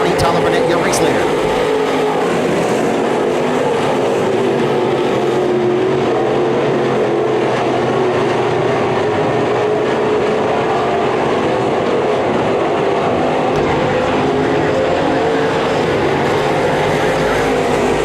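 Short-track race cars roar hard off turn four onto the straight on opening night, a dense, continuous engine drone with an announcer talking over it throughout.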